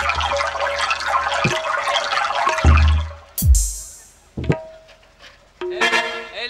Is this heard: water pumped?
yes